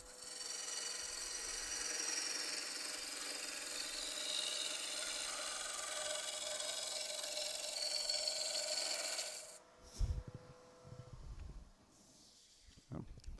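Wooden mallet being turned on a lathe, with a tool cutting off long shavings in a steady, close scraping rasp that runs continuously, then cuts out, followed by a few brief knocks and rubbing sounds.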